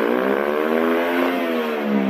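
Motorcycle throttle revving, a close, loud engine note with strong stacked harmonics that holds steady and swells slightly across two seconds, with no talking.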